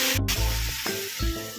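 Tomatoes go into a pan of fried onions, giving a brief, close sizzle with a low hum running underneath.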